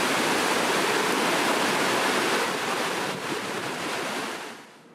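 Niagara Falls roars in a dense, constant wash of water at the river's edge, loud and unbroken, easing slightly in the final second.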